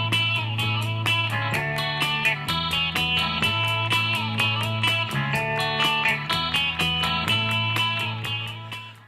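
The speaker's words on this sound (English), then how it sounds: "Electric 12 sounds like this." An electric 12-string guitar plays a bright, jangly, chiming riff of rhythmic strummed chords over a moving bass line, clear and upfront with a full band.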